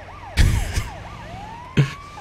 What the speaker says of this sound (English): they better respect the siren though, man